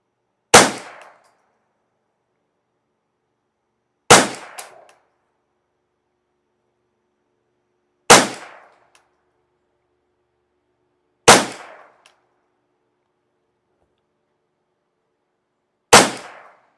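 A Ruger 10/22 Custom Shop Competition rifle with a warmed-up barrel fires five sharp, loud shots, spaced about three to four seconds apart. Each crack ends in a short decay, with silence between shots.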